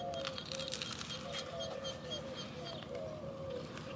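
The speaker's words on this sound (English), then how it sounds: "Those other birds over there boning." Pigeons or doves cooing repeatedly outdoors in the morning, soft rolling calls at moderate distance over steady background noise.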